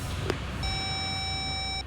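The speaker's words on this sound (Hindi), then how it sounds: "सर फोन काट दिया उसने।" After a brief click, a phone line drops and a steady electronic disconnect tone sounds, a single sustained beep lasting over a second against faint background hiss.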